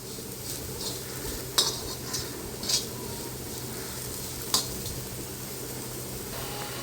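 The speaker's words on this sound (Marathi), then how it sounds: "पुन्हा एकदा मिक्स करून घेऊया" Spoon stirring khichdi rice with salt in a pan, a soft continuous scraping and mixing with a few sharp metallic clinks against the pan, over a faint steady background hiss.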